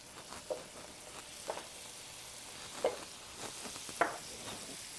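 Pats of butter melt in a GreenPan frying pan for toast, giving a soft, steady sizzle with a few light clicks and scrapes of utensils, faint and close.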